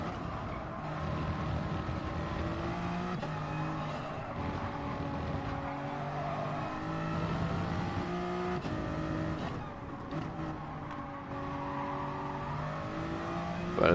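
A Toyota Supra Group 3 race car in Gran Turismo Sport at Spa-Francorchamps gives a steady, loud engine drone with rising and falling revs through gear changes, running continuously for the whole stretch.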